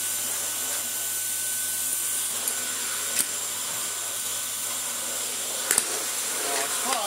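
Restored Dyson DC49 cylinder vacuum with a digital motor running, a steady high-pitched whine and airy hiss held throughout, close and fairly loud, with a couple of brief knocks.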